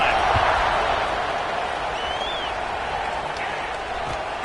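A stadium crowd in a college football video game roars at kickoff, a dense steady wall of cheering that slowly eases, with a faint whistle-like tone partway through.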